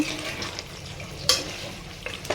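Green chili paste hits hot oil in a pan for chicken cooking and keeps up a steady, close frying sizzle, with a few sharper crackles and spoon scrapes as it is stirred.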